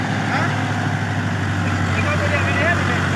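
A Cummins D10 diesel in a Howo tractor head idles steadily nearby, a constant low rumble with a faint rattle throughout, and people talk over it.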